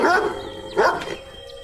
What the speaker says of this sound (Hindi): तभी रोड पर एक कुत्ता गाड़ी के सामने आ जाता है